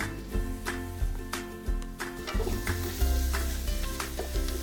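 Food stir-frying with dark and light soy sauce and brown sugar gives a close, steady sizzle broken by regular scraping strokes and clanks of a utensil against the pan, with no voices.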